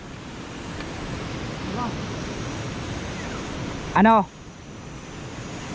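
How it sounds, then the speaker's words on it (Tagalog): Steady wind roars across an open outdoor space, a broad rushing noise throughout, with a person briefly speaking near the end. "Lumalakas ang hangin."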